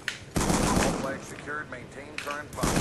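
Gunfire bursts from the Black Ops 2 multiplayer game, loud and near, with sustained automatic fire and rapid shots running through most of the moment while a voice talks over it.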